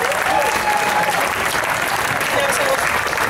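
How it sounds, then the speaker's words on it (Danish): An audience claps at an outdoor jazz festival finale in Nyhavn, a dense, loud, sustained round of applause filling the whole stretch, with faint voices and a few whistles mixed in. "Skal vi ikke lige klappe Jeanette Kryger"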